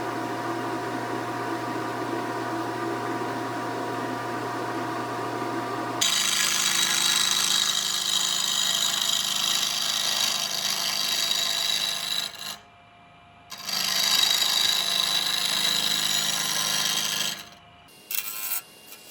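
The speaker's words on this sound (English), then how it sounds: "I will be putting it on the lathe between centers and turning it to round with tapering ends." A lathe turns a French rolling pin of wood and resin between centers as a tool cuts it round, giving a steady loud scraping, rasping whine close by that stops briefly twice.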